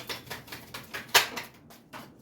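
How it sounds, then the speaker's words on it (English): Quick riffling taps and soft slaps of tarot cards being shuffled, close by, in an uneven rhythm of bursts with one sharper snap midway. "one more shuffle and I'll pull from the top"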